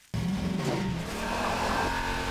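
Fast car in the Garry's Mod sandbox game, a loud steady engine roar starting abruptly and holding at full volume, with hints of tire squeal, close and alone without talk.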